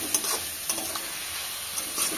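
Fish, potato and pointed gourd curry stirred and frying in a pan, a steady soft sizzle broken by a few scraping stirs, close and moderately quiet.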